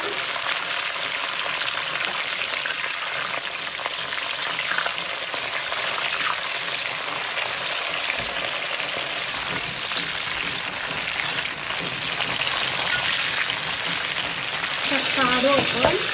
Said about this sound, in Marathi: आता आपण मिरच्या तळून घेऊ.